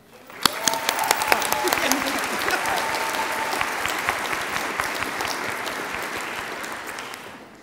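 Sustained applause from a graduation ceremony audience, a dense wash of many hands clapping that starts sharply, stays steady and loud throughout, and tapers slightly at the end.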